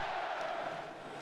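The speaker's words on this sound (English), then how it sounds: "Crowd is wild here in Florida." A wild hockey crowd roars in a Florida arena during Game 7 of the Stanley Cup Final, a dense, distant wash of cheering and shouting held at an even level for the whole moment.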